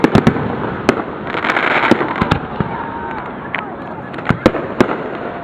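Fireworks at a July Fourth display burst in sharp booms and crackles, some close and loud, over a constant roar of distant explosions. Excited people shout and talk throughout.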